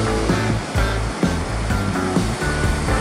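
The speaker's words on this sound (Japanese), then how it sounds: "海はミドル付近からインサイド気味に割れてますね。" Waves breaking at a Japan Sea surf spot on a calm morning with a faint offshore breeze, giving a loud, close, continuous roar of surf with a few swells of wash. No voices.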